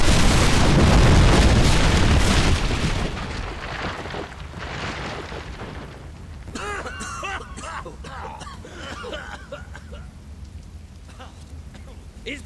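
A big video-game explosion opens as a loud, roaring burst that rumbles and decays over a few seconds, followed by crackling debris and scattered popping at lower level.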